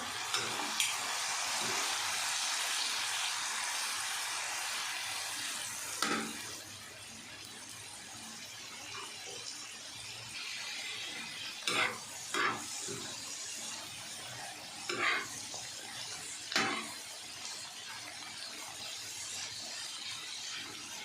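Liver masala sizzles and hisses on a hot tawa, with a louder burst of frying at first, then quieter crackling punctuated by several brief scraping stirs.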